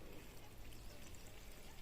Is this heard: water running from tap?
yes